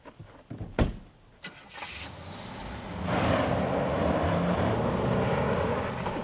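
A car door thunks shut, an engine cranks and catches, then revs into a steady, loud drone as the car pulls away nearby, with no talking.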